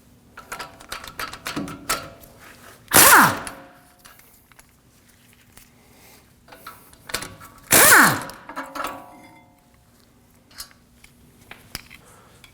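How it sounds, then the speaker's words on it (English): A power tool loosens the two 19mm bolts on the front brake caliper bracket of a 2016-2022 Honda Pilot. It sounds as two loud, rattling bursts a few seconds apart, with quieter clinks of tools between them. "Now we can remove our caliper bracket with the two 19mm bolts."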